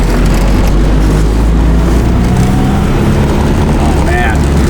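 Nissan Sentra SE-R daily driver on new wheels, heard from inside as it drives down the road: a loud, steady low rumble of engine and road noise, with faint voices underneath.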